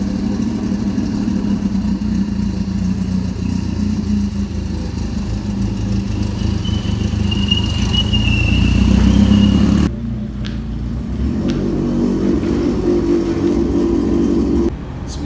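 A sleeper car's engine runs steadily at idle nearby, a continuous low drone with a slight rev rise near the middle, then the tone shifts briefly before settling again.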